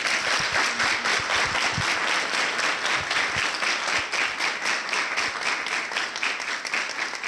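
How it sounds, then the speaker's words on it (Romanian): An audience applauds at a folk song and storytelling event in Cordăreni, dense steady clapping that fills the whole stretch at an even level, with faint voices underneath. "Merită aplauze."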